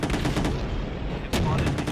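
Machine gun fire in the Empires Source mod on the emp_canyon map, a dense continuous rattle of rapid shots filling the whole stretch with a brief dip before resuming, loud and close.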